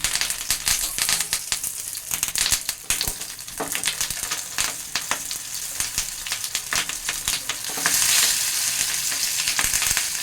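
Katla fish paturi parcels frying in hot oil, giving a dense, crackling sizzle close up that swells into a louder hiss toward the end, with no voices.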